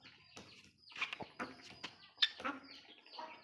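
Fighting roosters, an Aseel Mianwali and a cross breed, give short, quiet clucks and throaty calls in scattered bursts, fairly close.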